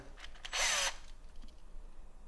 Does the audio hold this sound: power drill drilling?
yes